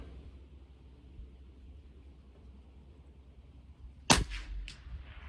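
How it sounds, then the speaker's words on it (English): One sharp .22 rimfire rifle shot with CCI Standard Velocity ammunition, fired at a target 100 yards away, cracks loudly near the end after several seconds of low outdoor rumble, followed by a brief echo and a faint second report. "And we're gonna shoot the bottom right target."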